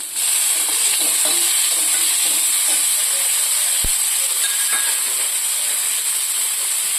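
Onion, tomato and green chilli pieces fry in hot oil for a yogurt tempering, making a loud, constant sizzling hiss throughout with faint stirring scrapes.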